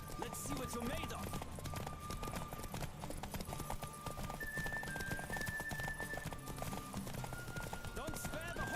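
Horse hooves clip-clop at a gallop during a race in The Witcher 3: Wild Hunt, a steady rapid beat with an occasional whinny, under game music and someone talking.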